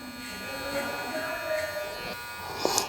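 Electric hair clippers buzz steadily close up while tapering the neckline of a curly mullet being cut into a classic style, a continuous whirring drone with a brief louder clip near the end.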